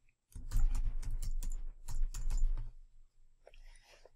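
Fingers type on a computer keyboard while an email message body is written, giving bursts of quick, close clicking keystrokes with a short pause before a final softer flurry.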